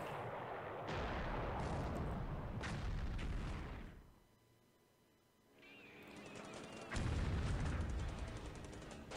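Bombs exploding on a ship in a World War II strategy game, heavy rumbling blasts and booms rolling in close together, then a brief lull before another loud burst of explosions.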